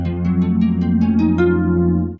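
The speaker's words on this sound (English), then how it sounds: "I'm gonna use the Copper Sound chorus, which sounds like this." A harp played across its full range through a Copper Sound chorus pedal, a sustained shimmering chord with a quick run of plucked notes on top, steady and close, then cut off abruptly.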